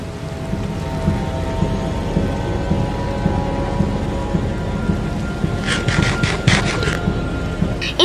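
Steady heavy rain pours down continuously in Minecraft, with a few brief brighter bursts near the end over the constant wash.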